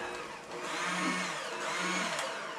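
A steady electric motor whirs continuously, a power tool running at close range with slight rises and dips in pitch.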